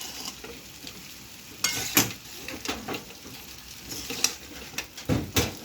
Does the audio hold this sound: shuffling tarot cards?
no